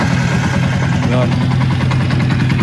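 A Yamaha Sniper 150 motorcycle fitted with a JVT V3 power pipe exhaust idles steadily up close, a loud, continuous low rumble that holds even throughout.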